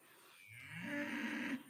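A baby calf on a small farm lets out one rising, nasal moo of about a second, close by and alone, swelling and then cutting off abruptly.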